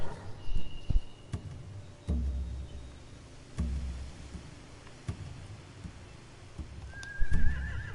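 In The Walking Dead: The Final Season video game, horses neigh and whinny over a low rumbling ambience, with sharp snorts, hoof knocks and a rising whinny near the end.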